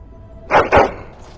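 Two quick, close barks from a dog in the fantasy game Dragon Age: Origins, sharp and punchy in succession against a quiet backdrop.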